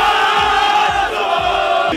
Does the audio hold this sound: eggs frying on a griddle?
no